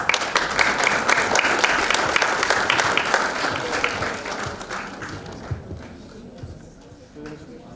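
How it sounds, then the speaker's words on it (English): An audience at a national spelling bee final claps loudly for the host, dense applause that gradually thins and fades over several seconds. "please give her a big round of clap"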